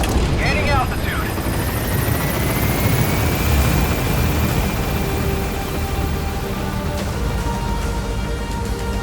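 An extraction helicopter in Metal Gear Solid V: The Phantom Pain climbs at Mother Base, its rotor and engine a loud, continuous roar close by, with a rising whine and some radio-style chatter mixed in.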